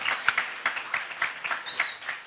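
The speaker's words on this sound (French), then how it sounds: "que je vous demanderai d'applaudir très fort" An audience claps for an alumni association guest at a Mboro high school gathering, with scattered, uneven hand claps at moderate distance and a brief high whistle-like tone near the end.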